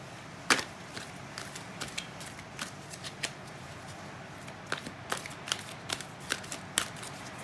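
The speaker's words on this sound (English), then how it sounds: "that's how I shuffle my cards" Tarot cards are shuffled by hand, giving sharp papery slaps and riffles at an irregular rhythm, close and fairly quiet, with no voice.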